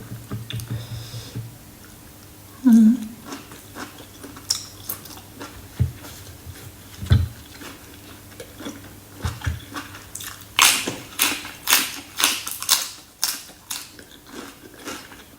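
Crispy blanched beef tripe being chewed close to the microphone: wet, crunchy bites and squishy mastication in irregular bursts that grow quicker and denser toward the end, with no talking.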